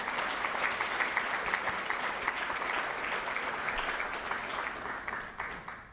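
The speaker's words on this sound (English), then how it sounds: "let's have a round of applause for the sponsors" An audience at a diet and health conference claps for the sponsors, steady dense applause from a crowd that holds for several seconds before tapering slightly at the end.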